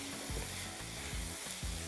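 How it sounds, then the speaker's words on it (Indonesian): Candlenuts, already dry-roasted, frying in oil in a pan for a butter chicken sauce, giving a steady loud sizzle with a few stirring scrapes and no talking. "Yang tadi kita sudah sangrai ya, tapi nggak apa-apa, sekarang kita goreng lagi."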